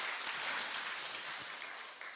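A church congregation applauding the choir, steady dense clapping from many hands in a reverberant hall, holding at an even level before easing slightly at the end.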